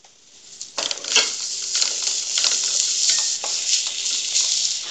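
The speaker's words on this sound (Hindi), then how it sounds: "दोनों चीज़ों को डाल के बस 2 मिनट ही हम इसमें करेंगे मिक्स" Vegetables with coriander and soy are stirred in a hot pan for chow mein soup, giving a close, steady sizzle broken by scraping, clattering stirring strokes, with no talk.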